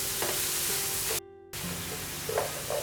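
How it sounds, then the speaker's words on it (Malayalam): Sliced onions frying with salt in a pan, a steady close sizzle with occasional stirring scrapes, broken by a brief dropout in the middle. "പിന്നെ സവോളയൊന്ന് മൂക്കാനും എളുപ്പമാണ് ഉപ്പിട്ട് നമ്മൾ ഫ്രൈ ചെയ്യുവാണെങ്കിൽ"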